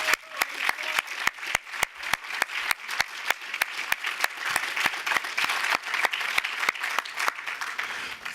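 Audience applauding after a panel discussion on environmental justice and a sustainable future, steady dense clapping from a large crowd with a few sharp nearby claps standing out, sustained for the whole stretch.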